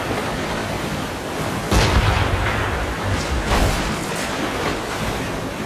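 Warship cannons fire in Assassin's Creed Rogue, with two deep, heavy booms a couple of seconds apart that rise over a constant roar of sea and battle noise.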